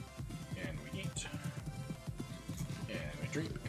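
Horse hooves walking in Minecraft, a steady run of soft clip-clop steps under continuous background game music, with a voice talking over them.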